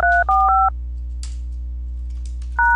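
DTMF keypad tones from dialing into an Asterisk 1.8 voicemail system: three quick dual-tone beeps in a row, a pause with faint clicks, then one more tone, over a steady low hum.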